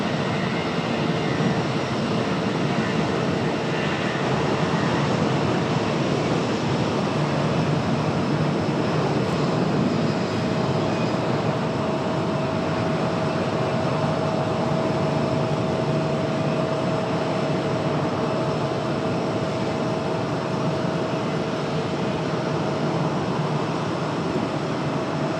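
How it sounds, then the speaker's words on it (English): Airbus A319 jet departing Raleigh-Durham International, a steady broadband engine roar with a faint sustained tone running unbroken throughout, moderately loud and without speech. "Nice sounding A319 up for departure."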